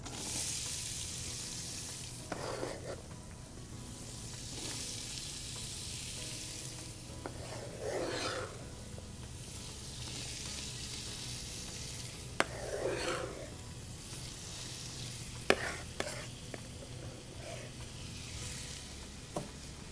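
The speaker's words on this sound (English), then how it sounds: "We'll start to saute that down." Peppers and onions sautéing in a pot, a soft steady sizzle with several scraping stirs and occasional sharp clicks of a spoon against the pot, fairly quiet throughout.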